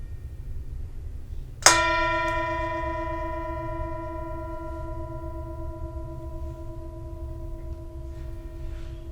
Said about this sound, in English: Enjoy the sound of the bell